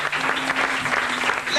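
A church congregation at a prosperity seminar claps loudly and steadily for the Lord, a dense wash of applause with a faint sustained tone beneath, near and continuous throughout.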